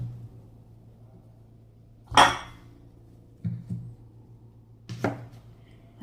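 Knife slicing a mango on a board for a salad: three separate clicking cuts against the board, the first the loudest, spaced a second or more apart in a quiet room.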